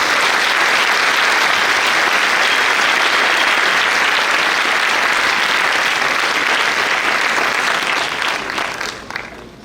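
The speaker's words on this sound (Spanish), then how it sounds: "Fuerte el aplauso para nuestro maestro." An audience at a Chapingo lecture event applauds Miguel León-Portilla with loud, sustained clapping that fills the room for nearly ten seconds before starting to fade at the end.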